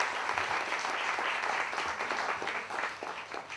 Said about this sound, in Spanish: con un fuerte aplauso le damos la bienvenida a María